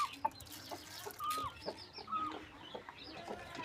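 A recovered rooster clucks in a few short calls over a busy, noisy farmyard background, moderately close and without talk.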